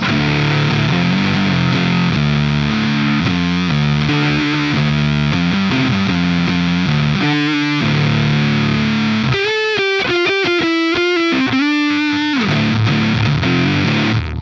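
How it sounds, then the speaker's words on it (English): An electric guitar plays through a Joyo Voodoo Octave Fuzz pedal with the octave switched off, giving thick, saturated fuzz chords that ring and then break into choppier, staccato stabs and a final sustained note. "I'll just give you the Voodoo Octave with the octave taken out of it as well, just so you can hear that."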